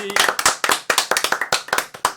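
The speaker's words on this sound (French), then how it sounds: "On applaudit Marie au platine." Enthusiastic clapping from a small group in a radio studio, fast and close, about two seconds of steady claps with faint voices underneath.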